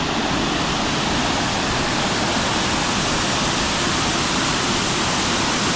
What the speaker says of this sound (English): We're at another waterfall in Bali, Uma Anyar Waterfall.